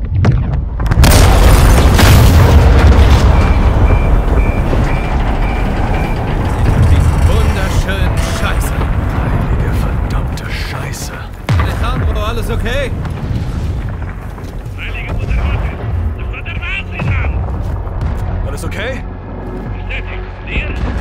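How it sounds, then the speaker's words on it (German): In the Call of Duty: Modern Warfare II video game, a missile launches and strikes an oil rig, producing heavy booming blasts and a long rumbling roar, with voices talking over the action. "Achtung, gleich knallt es! Rakete abgefeuert."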